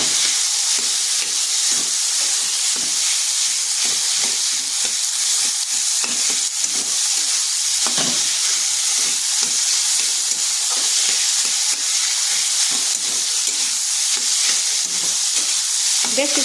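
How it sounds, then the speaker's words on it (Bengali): Cauliflower frying in a pan while a spatula stirs it, a steady bright sizzle with repeated scraping strokes and clinks, close and continuous with no talking. "তো কপিটাকে খুন্তির সাহায্যে এভাবে করে নিচ্ছি।"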